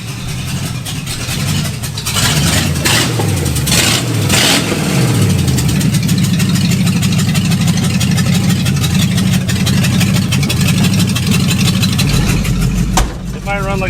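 An old Ford fitted with a junk 302 V8 swapped in place of an inline six, running and revving loudly and continuously for the whole stretch, with rising and falling pitch as the throttle is worked and a voice talking over it.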